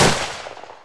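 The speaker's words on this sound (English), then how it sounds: "Let's go ahead and give him them gunshots." Gunshot sound effect: a sharp loud blast at the start followed by a rattling burst of rapid shots that fade out over under a second, with no talking.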